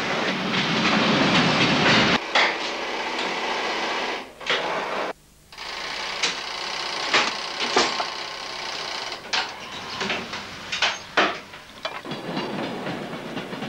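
NS D-train standing at a Dutch station platform in the 1990s, with steady rolling and clattering rail noise, a loud hiss, brief pauses and sharp clicks from nearby carriages.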